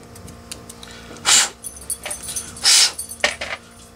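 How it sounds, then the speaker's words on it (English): Dog whimpering at people heard outside, with two loud high whine bursts and a few shorter, softer whimpers in between, close by in a quiet room. "my dog hears people outside"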